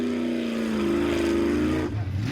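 Suzuki 4x4 nitro truck engine on an extreme off-road hill course, a loud sustained high rev that holds and rises before cutting back sharply near the end.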